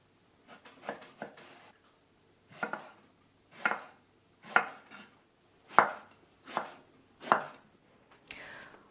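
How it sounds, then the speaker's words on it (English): A knife cuts through eggplant on a cutting board in about ten distinct chops with short pauses between them, close and fairly crisp in a quiet kitchen with no talking. "Cut the eggplant in half, then in quarters, and then you slice it."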